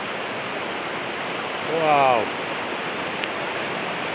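Heavy rain and a swollen stream pour down near a small footbridge in a steady, broad rushing wash, with a brief exclaiming voice partway through.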